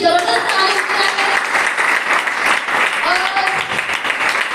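An audience at a speech event bursts into loud, dense applause and clapping that continues steadily throughout.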